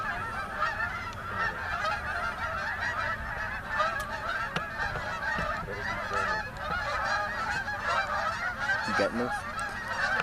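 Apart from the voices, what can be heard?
flock of geese honking while landing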